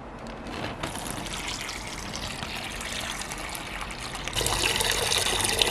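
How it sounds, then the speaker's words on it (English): Water pours and gushes steadily into a plastic bag, growing louder and splashier toward the end. "you put your water into the bag."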